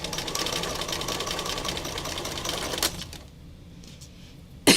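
A home sewing machine stitches fabric around a corner in a rapid, steady whirring run for about three seconds, then stops, leaving a quiet room with a sharp click at the end.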